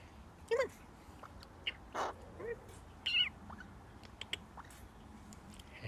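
A pet bird gives several short chirping calls spread across a quiet room, fairly close and separated by pauses, with no talking.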